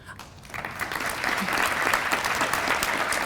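Audience in a high school auditorium applauding the school board president, the clapping swelling after a quiet start into a full, sustained ovation.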